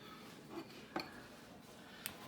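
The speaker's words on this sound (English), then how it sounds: "Now I'm gonna mix it up good." Sourdough starter being stirred with water in a container makes a few soft, quiet clinks and taps of a utensil against the vessel, with no talk.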